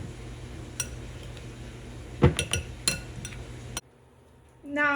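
Vegan stuffing being stirred in a bowl, with a few sharp clinks and scrapes of a utensil against the dish over a low background hum, followed by a brief quiet stretch.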